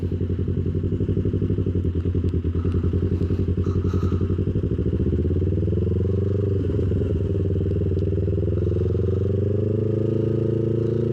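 A motorcycle being ridden gives a loud, close, continuous engine rumble with a fast throbbing pulse that smooths out as the pitch shifts partway through.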